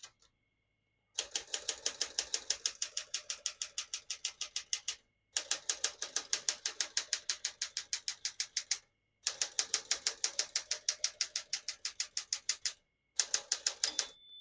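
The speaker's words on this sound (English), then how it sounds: "finish typing" Rapid, even clacking of keys on a 1965 Smith-Corona Sterling manual portable typewriter in three long runs separated by short pauses, with a brief fourth burst at the end.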